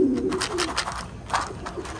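Pigeons coo softly at close range while being fed a mix of bran and corn, the low repeated calls sitting over a constant bed of farmyard noise.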